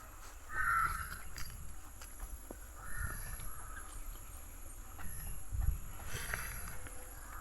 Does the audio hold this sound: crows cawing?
yes